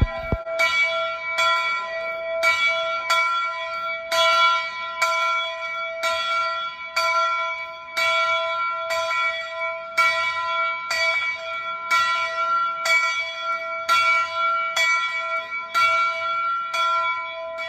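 The large metal bell of Canadian Pacific Royal Hudson steam locomotive 2860 rings again and again at a steady pace, each clear, resonant strike overlapping the fading hum of the one before.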